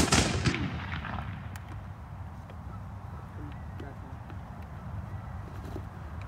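A musket volley fired at a battle reenactment, one loud ragged blast at the start echoing and decaying into a long rumbling outdoor tail.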